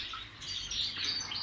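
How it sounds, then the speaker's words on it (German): A brown Gloster Corona canary cock gives rapid, high chirps and twittering close by, a short busy burst of song with no talking. "Ich zeige Ihnen heute mal einen braunen Corona-Hahn."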